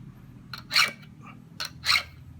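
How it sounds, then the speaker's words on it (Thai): Two pairs of short, harsh rasping strokes of a hand file on a chainsaw chain, each pair a quick light stroke followed by a louder scrape, close by against quiet background. "เดี๋ยวตะไบ เอ๊ะทำไมตะไบแล้วไม่ค่อยเข้า"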